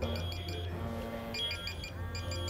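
A pager buzzer beeps in a food court at a Swedish shopping centre, giving repeated short high beeps in two bursts over steady background hum and crowd murmur.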